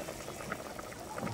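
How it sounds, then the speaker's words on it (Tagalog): A pot of water at a rolling boil on the stove while corn cooks, a dense close bubbling and churning that is steady and low in level over a brief moment. "hindi na kayanin nalagyan ng another sweet corn kasi kumukulo na Sophia."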